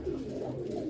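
Pigeons cooing inside a breeding loft, a continuous low, throaty murmur of overlapping coos close by, steady in loudness with no pauses and no talk.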